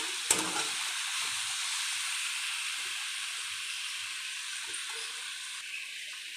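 Vegetables sizzling in a pan while being stirred, a steady close hiss of frying with faint scrapes and light knocks of the spoon throughout, no talking.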